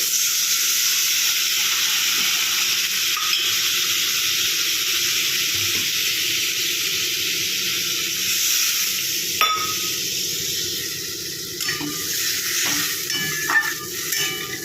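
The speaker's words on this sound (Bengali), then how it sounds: "যেহেতু মশলার থেকে তেল ছেড়ে দিয়েছে এবার আমি পরিমাণ মতন ঝোলের জন্য জল দিয়ে দেবো" Water tipped into hot spiced oil in a pan for a cauliflower, potato and bhetki fish curry gives a steady, loud hissing sizzle that runs throughout, with a few soft clinks of a utensil near the end.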